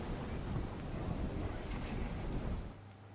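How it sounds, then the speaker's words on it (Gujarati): Heavy rain pours down over Ahmedabad as a dense, continuous hiss that fills the whole clip, heard at a moderate distance and easing slightly at the end. "અમદાવાદ શહેરના અલગ અલગ વિસ્તારમાં વરસાદ છે તે વરસાદ વરસી રહ્યો છે."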